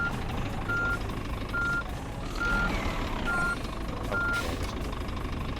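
Reversing beeps sound in a steady series of evenly spaced tones as a truck backs up in a truck simulator game, over a constant engine rumble; a voice speaks once briefly.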